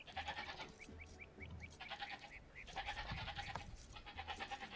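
Goat or sheep bleating in a video game, a short series of thin, evenly spaced bleats over steady game music and ambience.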